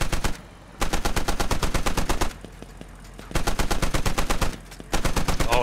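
A Humvee-mounted machine gun fires in Squad, laying down cover fire in long, rhythmic bursts of evenly spaced heavy shots, loud and close, separated by short pauses.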